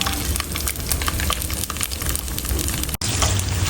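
Steady, loud sizzling of whole spices, including cinnamon and cardamom, frying over medium heat in a wok, with faint scraping and stirring throughout and a brief dropout near the end.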